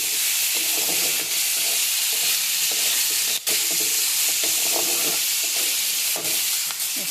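Onion and garlic frying with dried fish in a hot pan, giving a loud, steady, close sizzle and hiss that runs the whole time with faint stirring scrapes underneath and no speech.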